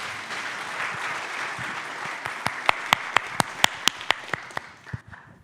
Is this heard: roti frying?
no